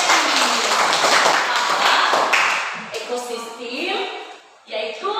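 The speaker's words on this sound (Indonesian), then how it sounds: "jadi tepuk tangan dulu untuk Betty" Classroom applause for a student, brisk clapping from a group of pupils that gives way to children's voices talking over the end.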